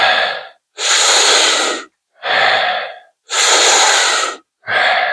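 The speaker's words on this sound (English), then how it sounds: "keep going, keep with the rounds of breath." Deep, forceful breaths during a group breathwork session, with long loud inhales and shorter exhales alternating in a steady rhythm of about five breaths, close and clear, with no talking.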